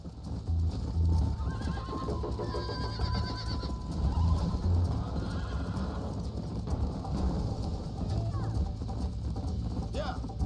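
A horse in Red Dead Redemption gallops with steady clip-clop hoofbeats and gives a loud whinny, mixed with game music and ambience while a person talks over it.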